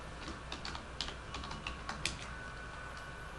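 Fingers tap a computer keyboard in short, irregular bursts of quiet, close clicks as a subject line is entered, with a few sharper keystrokes standing out.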